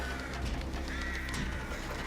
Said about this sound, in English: All the crows circling.